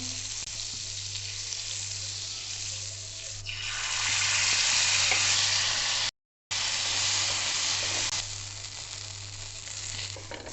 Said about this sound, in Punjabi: ਤਵਾ ਆਪਣਾ ਗਰਮ ਹੈ ਜੀ ਇਹਦੇ ਤੇ ਬਟਰ ਦੀ ਟਿੱਕੀ ਸਿੱਟਾਂਗੇ